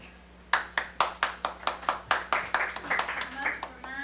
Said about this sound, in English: I must remind you, you need to hold your applause.